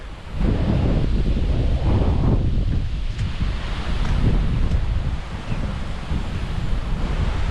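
Steady rushing roar of the Hell's Gill waterfall on Hell's Gill Beck, heard from the side of the fall, a continuous broadband wash with some wind buffeting the microphone and no voices.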